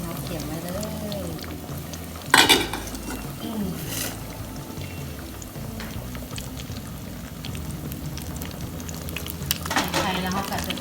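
A spatula stirs egg and chili frying in a pan, with a steady sizzle, a couple of sharp scraping clanks against the metal, and a voice talking over it.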